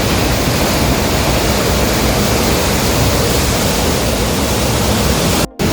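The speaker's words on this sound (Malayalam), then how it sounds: "ഇതിൽ ഡാമിൻ്റെ അകത്തുനിന്ന് വെള്ളം വരുന്നത്" Rushing water pours from inside Neyyar Dam into a canal, a continuous loud hiss and roar at close range, with a brief dropout near the end and no speech.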